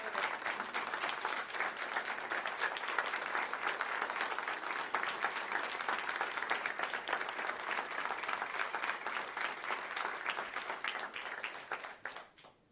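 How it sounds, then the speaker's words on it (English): A university audience of Nighthawks at a fall State of the University address gives a sustained round of applause for two alumni, dense clapping holding steady for about eleven seconds before fading out. "Join me in a round of applause for these great alum."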